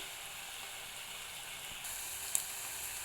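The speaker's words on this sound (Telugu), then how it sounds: "చూడండి ఆనియన్స్ చాలా బాగా వేగుతున్నాయి" Onions frying in a pan for a prawn curry, a steady soft sizzle and hiss throughout, brightening slightly partway through with a small clink near the end.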